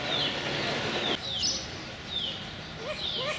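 Short-eared owl, a grassland species, giving harsh, short calls repeated about four times over a steady hiss and faint background noise.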